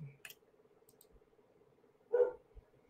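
A dog outside gives one short, muffled bark from some distance, amid a quiet steady hum and a few light clicks.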